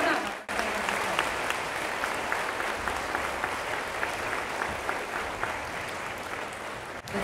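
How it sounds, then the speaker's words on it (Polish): Concert audience applause, a dense, steady roar of many hands clapping that fills the whole stretch at high level, with a brief dip near the start and no clear voices above it. "Jeszcze raz ogromne brawa."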